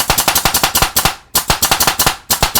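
Mollar MLR 1022JA pneumatic air stapler firing in a rapid automatic burst of sharp, loud staple shots, about eight per second, with a brief pause before the firing resumes. No one speaks.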